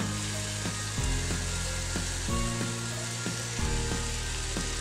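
Crumbled paneer frying in a pan for dhaba-style paneer bhurji, a steady close sizzle with a low hum and a few sharp spatula taps.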